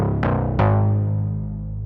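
Serum synth recreation of a remix brass stab: two sharp brassy hits in quick succession, the second ringing out into a sustained, slowly fading chord, alone and fairly loud.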